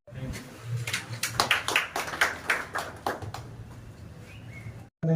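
A crowd at a Finolex company and Mukund Madhav Foundation mango-sapling event in Masar village, Padra taluka breaks into clapping, a loose spatter of hands rising and fading within a few seconds, with voices heard around it.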